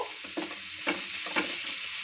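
Prawns fry in a covered pan with a steady close sizzle, broken by a few soft scraping stirs.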